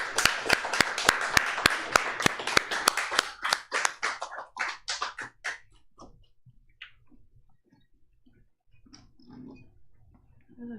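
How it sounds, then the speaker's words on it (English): Applause from a small audience at a poetry reading and open mic: sharp, close claps from a few people for about five seconds, thinning out and stopping, followed by quieter room noise and faint movement. "Let's give it a round of applause."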